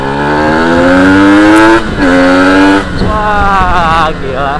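A 2001 Kawasaki Ninja SS 150 motorcycle engine revs hard on a test ride, its pitch climbing in rising sweeps, dropping briefly, then surging again, loud and close with possible faint voices underneath.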